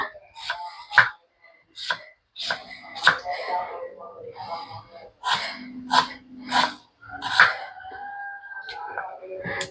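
A knife chops an onion into small pieces on a board in sharp, irregular strikes, close by, while a person talks over the cutting.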